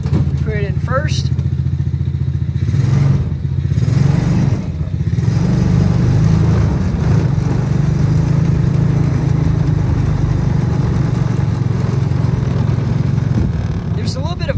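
A mini jeep's engine runs loudly and steadily as it takes a spin around a driveway in first gear, with a rough, rumbling drone throughout and brief voice sounds near the start and end.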